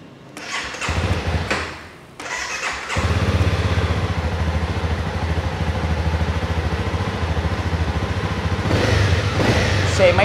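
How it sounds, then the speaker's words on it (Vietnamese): A used Honda CB300R motorcycle engine, low on fuel, cranks and starts after a couple of tries, then settles into a steady, close idle that putters on. "cho anh em nghe tiếng máy đi"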